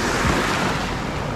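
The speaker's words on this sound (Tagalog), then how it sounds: "Lakas ang alon." Strong sea waves surge and break against a rocky shore at sunset in Calayo, Nasugbu, Batangas, a continuous loud wash of surf with wind buffeting the microphone and no voices.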